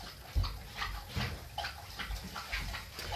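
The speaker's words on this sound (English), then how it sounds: "I don't know if you guys can hear my dog lapping in her water bowl like a cow" A dog lapping water from her bowl indoors, quick wet slurps repeating in an uneven rhythm, close to the microphone but fairly quiet.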